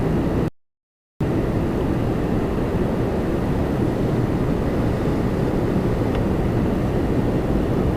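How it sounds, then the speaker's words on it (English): A Boeing 777 freighter arriving at Toronto Pearson produces a steady, loud broadband jet roar, continuous and fairly close, with a short gap early on. "we got the German cargo 464 in from Frankfurt on a 777 freighter"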